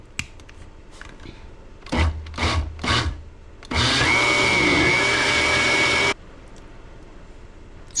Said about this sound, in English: when you can use a blender to make something